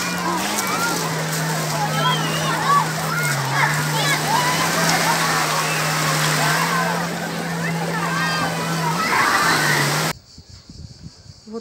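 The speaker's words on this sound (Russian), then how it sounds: "и при том волны еще такие." Black Sea waves wash and splash along a beach shore at Lazarevskoye under a steady low hum, with people and children talking nearby; the sound cuts off abruptly near the end.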